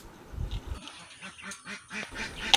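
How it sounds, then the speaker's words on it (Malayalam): A duck quacks in a quick run of rhythmic, nasal calls, fairly close and alone, with a brief sharp knock at the very end. "താറാവ്."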